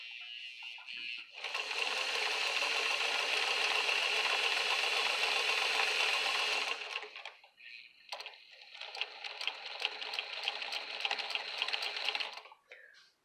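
A Singer 237 sewing machine driven by its foot pedal runs in a steady, loud mechanical whir for several seconds, pauses briefly, then starts up again with a busier, rattling stitch rhythm before stopping.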